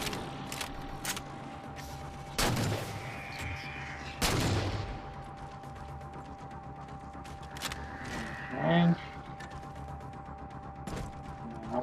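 Crawlers firing weapons in the Halo 4 campaign, with a few sharp shots standing out over a steady game soundscape, scattered bursts spaced across the stretch and a louder flurry near the end.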